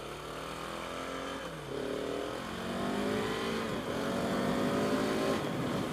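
A KTM 690 Enduro single-cylinder motorcycle engine accelerates hard, its pitch climbing through rising revs in several surges. The engine is loud and close, with no talk over it.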